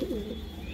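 Soft pigeon cooing, a low throaty murmur near the start over steady background hum.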